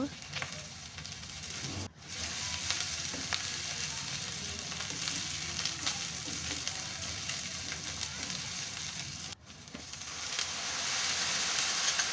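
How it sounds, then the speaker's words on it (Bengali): Ground ginger, garlic and cumin pastes fry and are stirred in a pan for a Bengali fish-head muri ghonto, producing a loud, continuous crackling sizzle broken by two brief dropouts. "সব কয়টা মশলা একসঙ্গে ভালোভাবে নেড়েচেড়ে মিশিয়ে ভেজে নিব"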